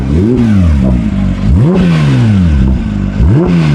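A performance car's engine, with its sports exhaust switched on, revs hard in three sharp blips, each rising and falling away in a loud, close, throaty sweep with no talk over it.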